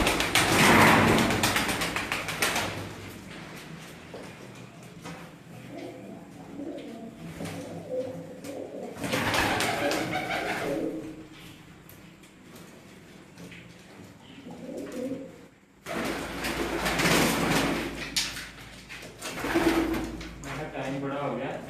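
Pigeons cooing in cages at a keeper's home in Mirpur, Azad Kashmir, with soft repeated coos rising and falling through the clip, mixed with other bird calls, rustling and occasional voices talking nearby.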